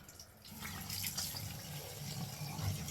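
Tap water runs steadily into a sink while a face is rinsed, a soft continuous splash close by with faint bursts of spray as hands scoop and splash.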